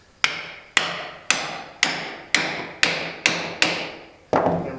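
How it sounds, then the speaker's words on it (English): A wooden peg is hammered into an all-wooden woodworking bench vise with nine sharp, evenly spaced hammer blows, each a crisp close knock with a short ringing decay. "hammer that down."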